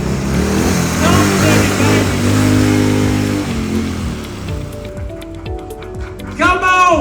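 A motorcycle engine revs and drones loudly and close by at a casual arrival, its pitch rising and falling over several seconds before it cuts off, with talk breaking in near the end.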